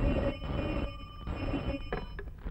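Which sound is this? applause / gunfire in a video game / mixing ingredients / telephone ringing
telephone ringing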